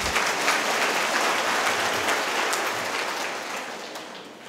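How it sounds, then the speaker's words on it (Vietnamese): A congregation applauds two people at an evening Advent retreat talk given by a priest, a steady wash of dense clapping that holds for several seconds and then eases off gradually toward the end. "Cho hai người đóng một tràng pháo tay"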